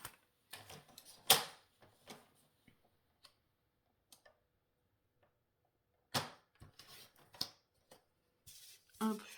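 Beige fabric scraps being cut with scissors, heard as sparse, crisp, close snips and ticks in short clusters separated by quiet pauses.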